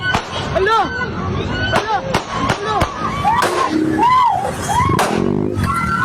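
A rapid series of sharp gunshots fired in succession by a suspect during a roadside shooting involving an SUV driver, loud, close cracks repeating irregularly over background crowd noise and voices.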